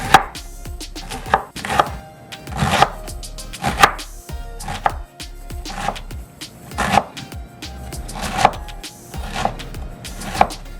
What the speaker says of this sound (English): I cut it into a little piece again, and then I slice it down